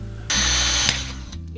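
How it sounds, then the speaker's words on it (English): A power drill bores an exit hole through the base of a sailboat mainmast, a loud close whine that starts abruptly, holds for about a second, then winds down and cuts off. "Then drilled an exit hole in the base of the mainmast, large enough to take the 3-core, 8-gauge generator cable."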